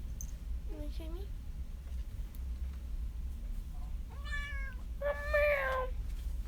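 A workshop cat called Shop Kitty gives a short, soft chirp, then two longer, louder meows close by, over a steady low room hum with no talking.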